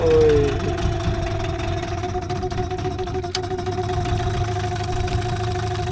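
A boat engine, a Yamaha cold-started with the choke on, idles with a steady, loud mechanical drone and a faint knock throughout, close by, with one short spoken exclamation near the start.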